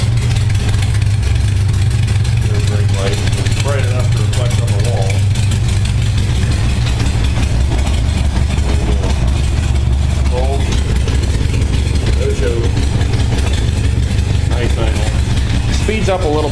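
A 1978 Honda Goldwing motorcycle engine idles on a cold start, a steady low rumble running the whole time with faint intermittent speech-like sounds over it.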